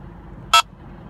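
An Escort Passport Max radar detector gives a single short, sharp electronic alert tone, loud against a low hum of car interior noise.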